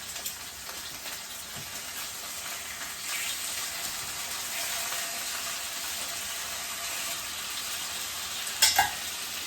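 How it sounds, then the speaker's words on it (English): Pork chops browning in a hot pan, a loud, steady hiss and crackle of frying fat that continues without pause and rises slightly partway through, with a brief clatter near the end. "I'm just going to brown each side of the pork chop"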